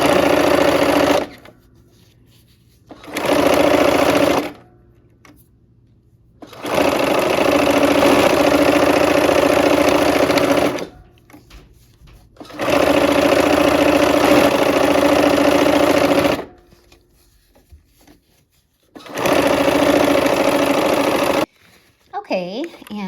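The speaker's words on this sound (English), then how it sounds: "Now we'll sew those into 4 patches." A sewing machine stitches quilt patches together in several sustained runs, loud and close, stopping and starting with quiet gaps between seams.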